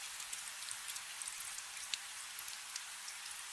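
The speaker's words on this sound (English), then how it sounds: "The rain outside hasn't quieted, and I don't reckon it will before morning." Soft, steady rain falling outdoors at night, a faint even hiss dotted with scattered raindrop ticks, heard alone without voices.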